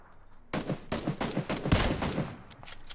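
Gunfire in the PUBG battle royale video game, a rapid burst of loud automatic shots fired in quick succession for about two and a half seconds after a short quiet start, close and punchy with no talk.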